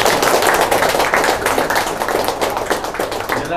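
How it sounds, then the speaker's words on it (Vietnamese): Guests at a wedding clap steadily and densely throughout, a close, sustained patter of many hands with no pauses and no talking over it. "vỗ tay vỗ tay vỗ tay"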